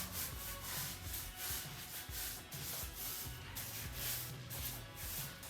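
Hands rub a pecan spice rub into raw bacon strips, making a close, continuous rhythmic rubbing and scraping, stroke after stroke, with no talking.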